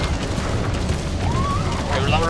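Gunfire in Metal Gear Solid 5: The Phantom Pain, a dense, continuous roar of shots and blasts that stays loud for the whole stretch while a voice talks over it.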